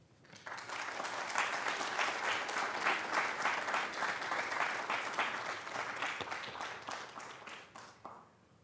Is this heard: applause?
yes